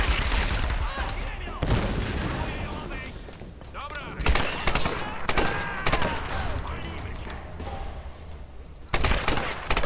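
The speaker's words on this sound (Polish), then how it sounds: "będzie na nas teraz strzał" Gunfire in the video game Tomb Raider comes in loud, close bursts of rapid shots separated by quieter stretches, with a final burst near the end.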